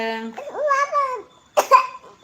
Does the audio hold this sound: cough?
yes